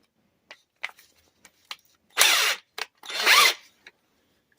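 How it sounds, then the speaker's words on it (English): An impact wrench fires on the muffler of a 1998 Ram 1500, popping out a dimple: two short, loud, harsh bursts, about half a second each, separated by quiet light clicks and taps. "just run my impact on it a tiny bit to get that to pop more than what I can do by hand."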